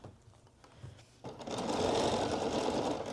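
A sewing machine starts up after a quieter moment and runs a steady, continuous long straight stitch along a hoodie seam, a close, even mechanical whir.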